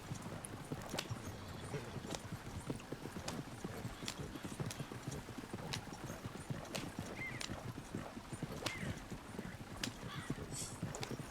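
Horse hooves clip-clopping in Red Dead Redemption 2, a steady, fairly quiet trotting rhythm of sharp hoof strikes continuing throughout.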